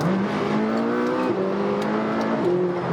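A McLaren 570S accelerates hard, its engine note climbing loud and close through rising gear pulls with a brief shift step, no talk over it.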